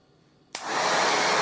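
An Eleganty soft bonnet hair dryer switches on with a sharp click, then settles into a loud, steady, broadband rush of blowing air close by.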